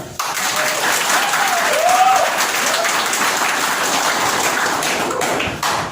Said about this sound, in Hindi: उसके लिए बहुत जोरदार तालियां।